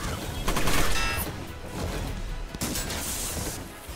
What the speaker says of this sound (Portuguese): Vamos atirar de volta aqui.